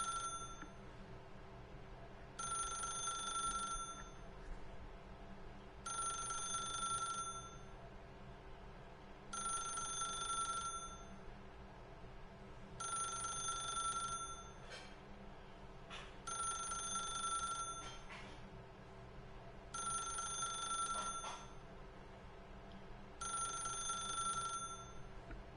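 A telephone in the video game The Stanley Parable rings over and over in a regular pattern of electronic bell bursts separated by short pauses, clear and moderately close above a quiet background hum.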